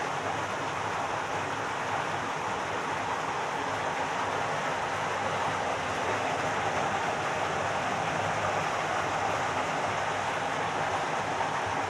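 An underground river runs beneath rocks at Rio Encantado. It makes a continuous low, rumbling rush of water, steady and unbroken throughout, with no voices.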